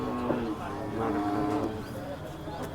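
A Khillar cow moos in long, low drawn-out calls at a cattle market in Sangola, repeated a few times at moderate distance over faint background noise.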